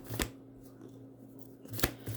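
Tarot cards being shuffled and drawn: two sharp papery snaps or slaps of cards, one near the start and one near the end, with quiet handling rustle and a faint steady hum between them.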